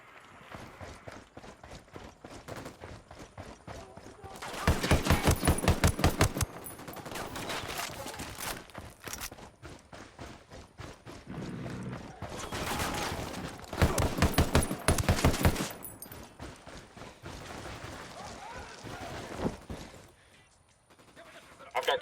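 Gunfire in the GTA video game erupts in two heavy bursts of rapid shots, with scattered clicks, clatters and lighter intermittent shots between and after them.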